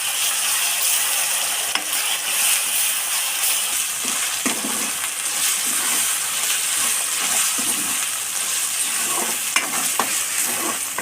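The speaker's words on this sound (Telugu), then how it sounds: "అల్లము వెల్లుల్లి పేస్టు పచ్చివాసన పోయేంత వరకు వేయించుకోవాలి." Ginger garlic paste frying in a pan, a steady close sizzle with scraping stir strokes and occasional spatula clicks over the full length, no talking.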